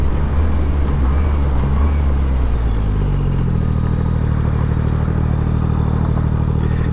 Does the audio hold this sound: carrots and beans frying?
no